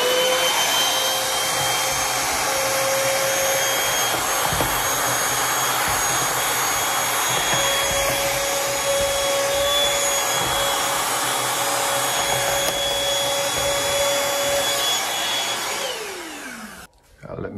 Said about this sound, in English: So I'm just going to use my vacuum cleaner and vacuum it out.